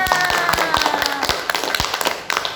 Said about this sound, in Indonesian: Yo, tepuk tangan semuanya.